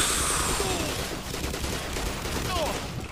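Sustained gunfire from a magazine being emptied in the video game Black Mesa, a dense run of rapid shots with no break, loud and close over a continuous noisy background of gameplay.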